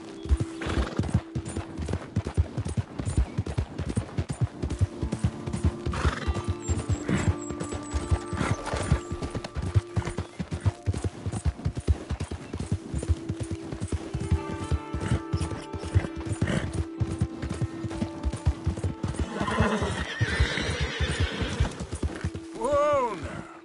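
Galloping horse in Red Dead Redemption 2, hooves pounding in a fast continuous rhythm close up, a neigh rising near the end, with occasional spoken voices over the ride.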